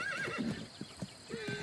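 Wild Australian horses neigh and whinny during breeding season, with a rising, wavering call near the start and soft thuds of hooves scattered through a short, moderately distant stretch.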